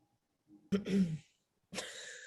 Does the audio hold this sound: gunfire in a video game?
no